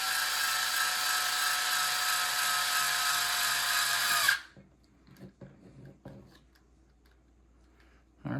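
An electric screwdriver set to install mode drives a small screw into an RC model body in one steady high whine lasting about four seconds, then cuts off to quiet clicks and handling sounds.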